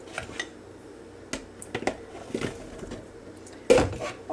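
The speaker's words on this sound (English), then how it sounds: "we're going to add honey gold bite-sized potatoes" Bite-sized honey gold potatoes tumble into a stew pot for old-fashioned beef stew, giving scattered soft clunks and knocks against the pot, with a louder thump near the end.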